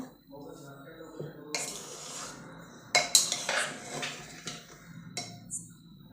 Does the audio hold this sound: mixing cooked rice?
yes